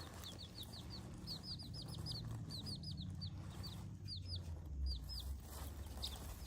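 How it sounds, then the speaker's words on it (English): Young chickens, from chicks to pullets, make a run of quick high chirps and soft clucks, with scattered repeated calls over a low rumbling background and some faint fluttering, fairly distant and quiet. "Those are all of the chicken sounds that I have deciphered and captured on film."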